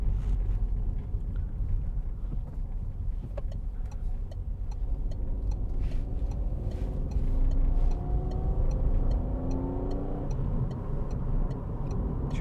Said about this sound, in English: It's got the little buzz from the 3-cylinder engine, which is quite good.